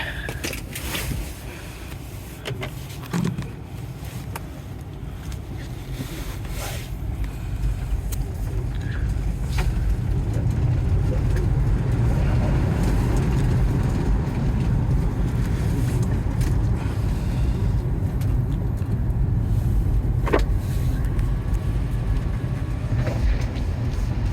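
A 2013 Tesla Model S P85 electric car drives along with a steady low road and tire rumble, heard from inside the cabin and building slightly as it picks up speed.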